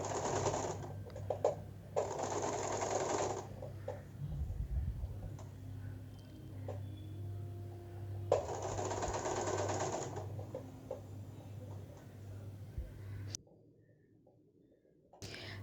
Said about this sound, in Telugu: ఇప్పుడు కరెక్ట్ సైడ్ పెట్టుకొని ఈ విధంగా ఫోల్డ్ చేసేసి కుట్టేస్తున్నాను